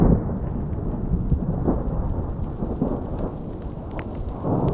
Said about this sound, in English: Thunderstorms and lightning, very, very frightening me.